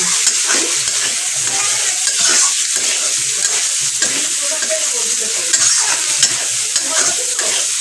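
Potato, taro and prawn curry frying in a pan, with a steady loud sizzle and stirring scrapes throughout, no talking.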